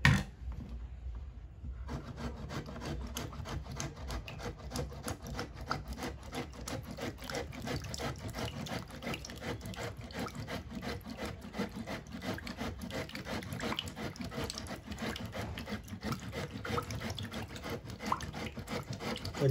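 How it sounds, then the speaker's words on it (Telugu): Potatoes are rubbed by hand against a kitchen grater in quick, steady rasping strokes, close and continuous, after a brief quiet start. "ఇప్పుడు మనం దీన్ని తురుముకుందాం"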